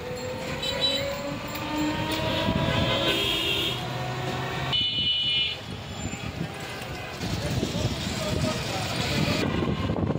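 A Dhaka Metro Rail train hums and rumbles at Uttara station, with electronic tones and a brief shift in noise midway; steady, moderately loud throughout.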